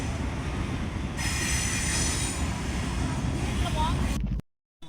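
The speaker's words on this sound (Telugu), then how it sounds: "ట్రైన్ అయితే వెళ్తుంది, గూడ్స్ ట్రైన్." A goods train rolls past at close range near Rajahmundry with a heavy, continuous rumble and long high-pitched wheel squeal, then cuts off abruptly.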